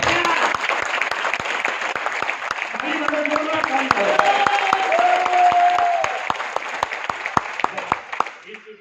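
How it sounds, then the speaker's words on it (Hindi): Hotel conference room audience at a leadership training session clapping in a continuous patter, with a voice and some murmuring heard over the applause. "ताली मारो उस पर"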